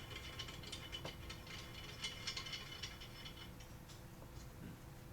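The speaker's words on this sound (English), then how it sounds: "you take your standard neck bolt, 3/8 16 thread again, and just screw it right on in" A 3/8-16 neck bolt being screwed by hand into a camp stand gives close, faint metallic ratcheting and rattling clicks in a steady run, with no talk.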